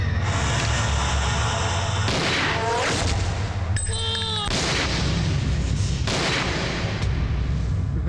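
Gunfire rings out in a dramatic film scene, a loud blast layered with ringing, clanging effects and a dense, constant soundtrack behind it.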